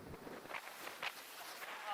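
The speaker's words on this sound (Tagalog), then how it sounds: "Totoo lang guys, malakas yung hangin." Gusting wind buffets the microphone with rumbling noise and brief louder bursts, steady and close throughout, on a motorcycle in cold, cloudy highlands.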